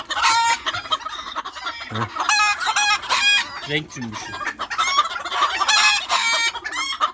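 Ornamental chickens, including Malaysian serama, cluck and crow close by in a busy, overlapping chorus, with a few short words spoken among the calls.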